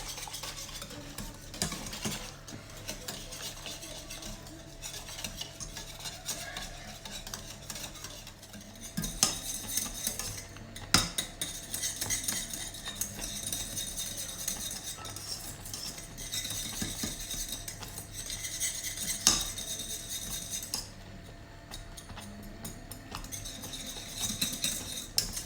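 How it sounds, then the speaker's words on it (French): A spoon stirs semolina dessert in a pot, scraping and clinking steadily against the metal for a long stretch, close and moderately loud, with a faint bubbling underneath and no talking. "Donc je vais mélanger un peu moins de 5 minutes."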